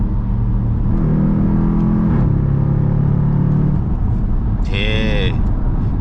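An SRT Jeep with its mid muffler deleted revs and pulls hard: a loud, close engine drone climbs in pitch, then steps up again into a second surge, with a voice briefly over it near the end.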